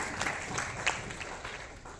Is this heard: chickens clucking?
no